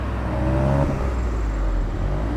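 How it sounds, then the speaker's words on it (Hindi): Dual barrel exhaust of a 2023 Hyundai Venue N Line with 7DCT gearbox, heard close up as a steady low idle rumble with a faint whir above it. "एंड यहाँ पे आपको डुअल बैरल एग्जॉस्ट देखने को मिल जाता है, जो कि काफ़ी बढ़िया है, और एग्जॉस्ट नोट भी काफ़ी अच्छा आ जाता है इसका।"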